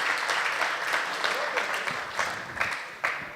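Audience applause at a 2016 awards ceremony in Mumbai, a steady wash of clapping from a crowd with a few louder bursts, continuing under a host's voice speaking over it.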